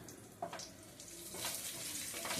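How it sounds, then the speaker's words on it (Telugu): Half a spoon of cumin seeds sizzles in hot oil, a steady frying crackle with a few sharper spits, close by and with no talking. "ఆయిల్ వేడెక్కాక కొద్దిగా జీలకర్ర వేసుకోండి"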